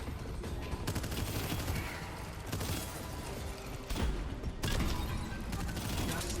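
In the Abyssus video game, heavy gunfire streams almost without pause, a dense rattling barrage of rapid shots and impacts, loud and continuous with brief shifts in intensity.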